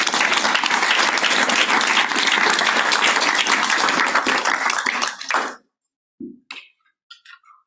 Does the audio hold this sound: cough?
no